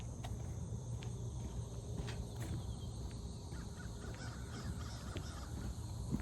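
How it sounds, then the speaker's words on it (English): Crows caw repeatedly at a distance over a steady bed of crickets and insect chatter, with other birds faint in the background as dawn breaks outdoors while the moon is still up. "Birds are waking up."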